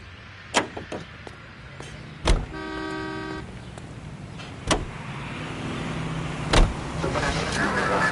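Car driving through Los Angeles streets in the L.A. Noire video game, with a low engine hum underneath, sharp door-like thumps, a brief honking horn tone and passing traffic, moderately loud with no talking.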